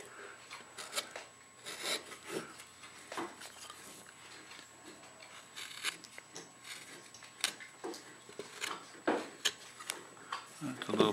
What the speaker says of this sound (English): I'm going to use the same gouge and start to work my way